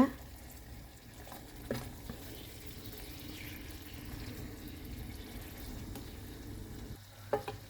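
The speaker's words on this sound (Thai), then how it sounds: "ผัดกุ้งให้เข้ากับน้ำแกงเขียวหวานเลยค่ะ" Shrimp stir-fry in green curry sauce over low heat, with a quiet steady sizzle, soft scraping stirs and an occasional clink of utensil against pan, faint and close.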